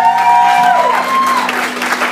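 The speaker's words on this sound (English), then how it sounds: "lots of applause" Wedding guests applaud at a reception, giving a steady wash of clapping for a couple of seconds. Sustained musical tones from the dance floor run through it.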